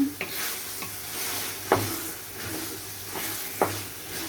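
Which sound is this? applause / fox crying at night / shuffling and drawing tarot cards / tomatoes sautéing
tomatoes sautéing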